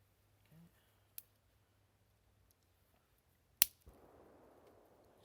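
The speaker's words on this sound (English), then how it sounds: "You can hear people shooting in the background" A single sharp gunshot cracks out, muffled by distance, from hunters shooting somewhere in the woods of an open recreational park. A fainter crack sounds earlier, and a low rumbling wash of wind or echo follows the shot.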